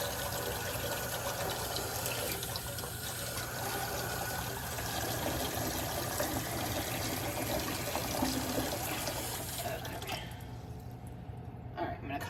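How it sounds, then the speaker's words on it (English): Tap water steadily running into a cooking pot to boil noodles, a continuous even rush and trickle lasting most of the clip, fairly close, while a person talks over it. "So let me get this water going."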